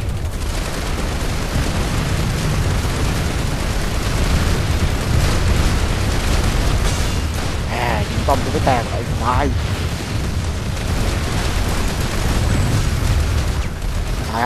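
Dense gunfire and explosions from the sci-fi shooter PlanetSide 2, a continuous loud barrage of bursts and booms throughout, with a voice talking over the battle.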